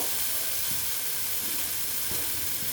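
Mourola fish curry sautéing in a pan: a loud, unbroken sizzle and hiss of hot oil, close by, with a few soft stirring knocks underneath.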